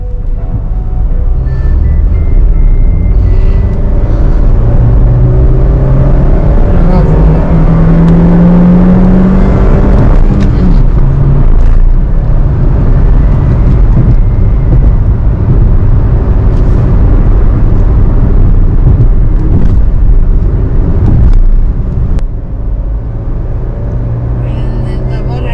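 A Honda City i-VTEC on an open road, its engine droning and rising steadily under the car, loud and continuous, while people talk inside the cabin.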